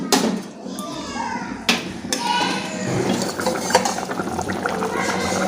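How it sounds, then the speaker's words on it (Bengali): A lid comes off a cooking pot of boiled potatoes, with a few sharp metallic clanks and knocks followed by a softer bubbling, rustling background, close by. "আমি ঢাকনাটা এবার খুলে নিচ্ছি"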